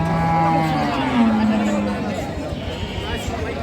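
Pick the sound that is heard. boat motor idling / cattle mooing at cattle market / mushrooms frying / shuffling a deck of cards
cattle mooing at cattle market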